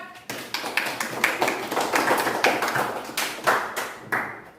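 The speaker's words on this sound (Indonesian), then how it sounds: "beri tepuk tangan, beri semangat" Applause from a small group, a steady patter of hand claps for several seconds, fairly close and lively.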